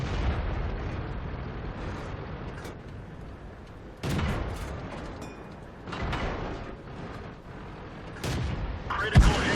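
Heavy cannon shots from an M41 Bulldog light tank thump out in World of Tanks on the Lakeville map, several loud booms spaced a few seconds apart amid mechanical clanks and game voice cues.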